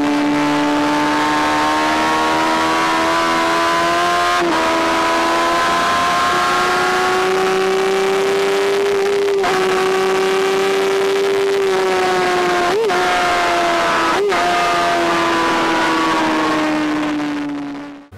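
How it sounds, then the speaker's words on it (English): A 2017 Honda Fireblade standard model motorcycle on a race track, its engine holding a loud, sustained high whine that rises and dips through gear changes, with occasional sharp shifts, close and continuous with no talk. "look what I'm on. The all-new, much-anticipated Honda Fireblade, the 2017 standard model."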